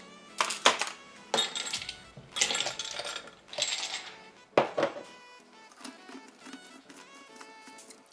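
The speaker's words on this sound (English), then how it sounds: "And then let's get half a cup of ice." Ice cubes clatter into a blender jar while a fruit juice is being prepared, with a series of sharp clinks and knocks in quick bursts that then settle into faint rattling.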